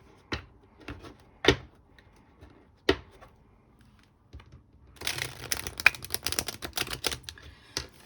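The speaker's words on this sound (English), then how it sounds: "I'm going to shuffle the deck a few times for you." Tarot cards being shuffled by hand: a few sharp separate snaps and taps, then a dense burst of riffling clatter, close and fairly quiet, with no talk.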